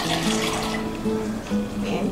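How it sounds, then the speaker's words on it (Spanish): Two cups of hot water pour into a jug for strawberry and orange gelatin, a steady gurgling stream with a rising filling tone, close and alone. "Vamos a poner aquí en esta jarra 2 tazas de agua caliente."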